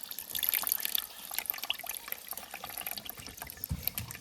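Juice from a cut sweet lime pressed in a hand juicer trickles and splashes into a container below, a close, soft, irregular pouring with small drips and a gentle thump toward the end. No one speaks.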